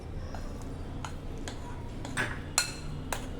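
A spoon stirs urad dal jangri batter mixed with a spoonful of cornflour and orange colour, giving a few faint, scattered clinks and taps against the bowl over a low background hum.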